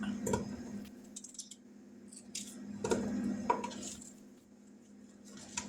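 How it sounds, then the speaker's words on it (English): A knife cubing potatoes on a cutting board, with scattered light chops and taps at an uneven pace, fairly close and quiet, alongside soft kitchen handling noises. "We're going to cube these potatoes up."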